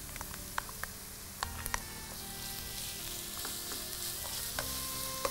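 Onions sautéing in a pan with ginger, garlic and green chili paste, a steady close sizzle and fry with scattered stirring clinks and scrapes throughout, no talking.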